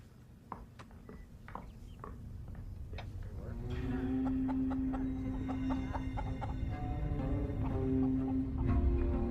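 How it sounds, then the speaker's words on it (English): Chickens cluck in short, scattered calls at first, then a denser, louder run of clucking rises over a steady low hum, close to the listener and without clear talking. "Could you take Daniel's chickens away, please?"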